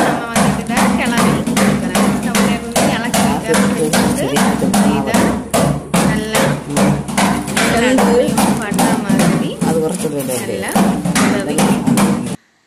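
Banana chips (upperi) stirred in a pan, producing a fast, regular series of sharp clattering scrapes and knocks, loud and close, continuing steadily before stopping abruptly at the end.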